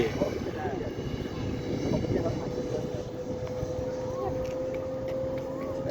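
An RC F-16 model jet with a 90mm ducted fan comes in to land at an RC airfield, its steady whining hum running throughout under wind and nearby voices chatting.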